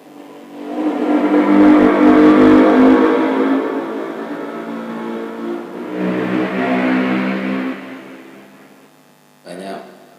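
A car driving past on the road beside Telaga Ngebel lake in Ponorogo, engine noise swelling and fading over several seconds, then a second softer pass, fairly near and steady, with brief faint sounds near the end.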